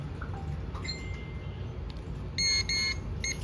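Garrett Pro-Pointer metal detector giving short electronic beeps as it switches on, a few faint high tones early and then a brighter cluster of repeated beeps near the end, alone without talk.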